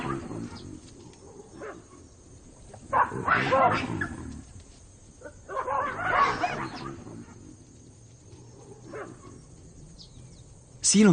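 African wild dogs yelp and whimper in a tense confrontation with baboons on the African savanna, high excited bursts in two clusters over a steady outdoor bed, fairly close.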